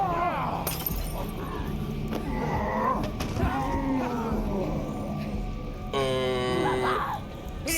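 Big cats in a horror video game set in a Romanian village let out loud, drawn-out yowling cries, with a long sustained wail near the end over a busy game soundscape.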